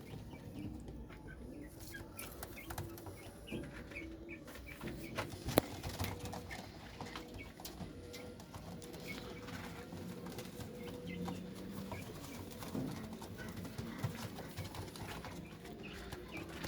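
Flying pigeons cooing and clucking around a loft, soft repeated bird calls scattered over a steady low outdoor hum, moderately distant and quiet, with no talk.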